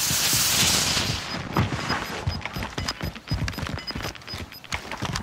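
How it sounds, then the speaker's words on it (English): Assault rifle fire in a video game: rapid, repeated sharp shots crackle throughout over dense action noise, loud and close, with bursts continuing to the end. "Assault rifle."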